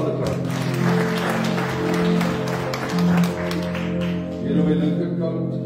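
A church congregation claps its hands in a sustained, scattered patter, heard under a steady, low sustained tone and some murmuring voices, with the clapping swelling and fading in waves.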